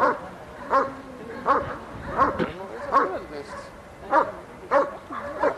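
A dog barks in a rhythmic series of about eight sharp, close barks at a 1997 IPO working-dog competition, while people talk in the background.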